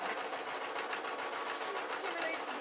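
A sewing machine stitches through a quilt in a steady, fast, loud mechanical whir with rapid rhythmic needle ticks, running continuously without talk.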